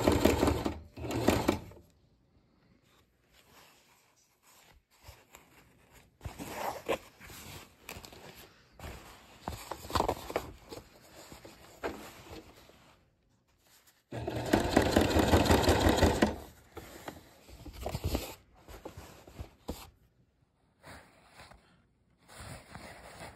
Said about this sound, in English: I folded over the seam and I restitched over it like this